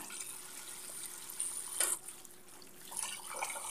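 Tap water runs steadily and fairly softly while fresh milkfish (bangus) is rinsed, with a few louder splashes as the fish is handled.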